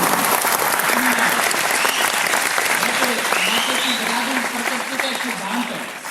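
Dense, sustained audience applause filling a hall, loud and steady throughout, with some voices mixed into the clapping and a slight fade near the end.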